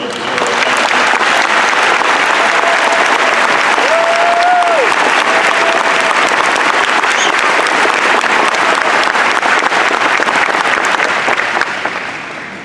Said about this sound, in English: Please join me in a round of applause for the veterans